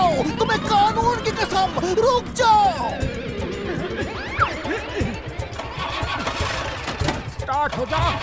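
A cartoon motorbike engine sputters and struggles to start in a 3D animated kids' chase scene, with rough revving bursts and clanks under excited character voices talking throughout.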